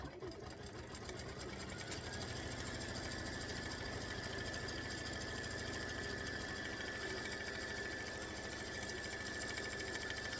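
Sewing machine stitching embroidered fabric for pumpkin-face quilt blocks, a steady close mechanical whir running continuously without pause.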